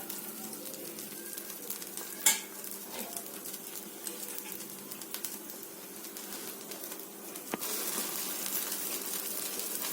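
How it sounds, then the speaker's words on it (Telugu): Sweet corn masala dosa frying on a hot pan over a stove, a steady soft sizzle of oil running throughout at moderate level, with one brief sharp clink near the start and no voices. "మళ్ళీ రెండో దోశ వేసాను స్టవ్ మీద పెనం మీద ఇది ఒకవైపు కాలిపోయింది రెండో వైపుకి టర్న్ చేశాను"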